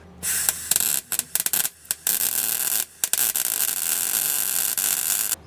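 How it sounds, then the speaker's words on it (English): Overhead welding on an exhaust flange outdoors in hot weather, a loud steady hissing crackle that cuts out briefly a few times before resuming, close up and without speech. "It's not welding that good, but it's welding."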